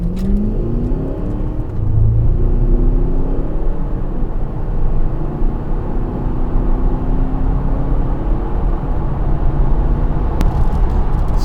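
A deep 4.2-litre V8 diesel engine in a remapped Audi Q7 roars steadily as it accelerates hard in sport mode, the low rumble rising in pitch over several seconds, with no voices.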